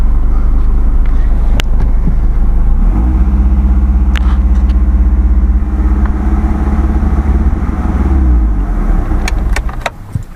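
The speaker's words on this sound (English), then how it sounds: "We'll give it a little bit of revs here" A loud Mitsubishi Eclipse engine idles and rumbles steadily, its pitch rising briefly as it is revved, with a few clicks and faint sounds over it; the engine smokes badly.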